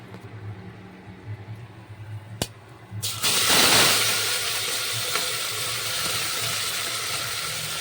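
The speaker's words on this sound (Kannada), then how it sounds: "ಈಗ ಜೀರಿಗೆ ಫ್ರೈ ಆಗ್ಲಕತ್ತದ ನೋಡ್ರಿ" Cumin seeds and whole spices drop into hot oil: after a few seconds of quieter kitchen sounds, a sudden loud sizzle bursts up and settles into a steady frying hiss.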